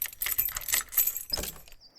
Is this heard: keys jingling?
yes